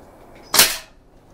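An SMK PR900W air rifle fires a single shot: one sharp, loud crack that decays quickly against a quiet background.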